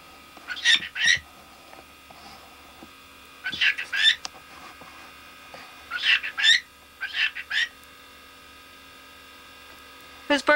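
A pet baby bird named Birdie squawks loudly indoors in short harsh bursts, four clustered groups of calls spaced a few seconds apart, over a steady electrical hum.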